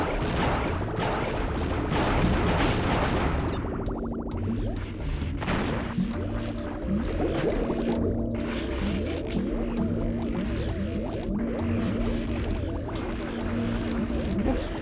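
Muffled underwater thuds and a dull crash as a torpedo blows up a sea mine in the video game Crash Bandicoot 3: Warped, over a steady droning game soundtrack with a voice talking.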